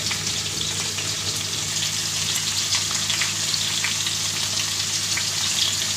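Fried young jackfruit pieces cook in oil with a little salt and turmeric, producing a continuous, close, even sizzle throughout with no talking.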